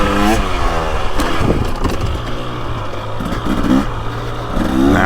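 A 2023 KTM 300XC two-stroke dirt bike engine buzzes and revs while being ridden, its pitch rising and falling with throttle changes and wind rushing past the rider.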